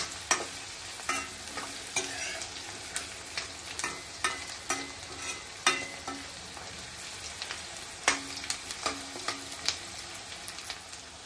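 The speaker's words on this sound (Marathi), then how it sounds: "आता आपला कांदा 1 मिनिट परतलाय, आता आपण टोमॅटो घालूया।" Onion sautéing in a pan gives a soft, continuous sizzle, broken by a rhythmic series of sharp scraping clicks as a spoon stirs it every second or so; the sound is close but fairly quiet, and no one talks.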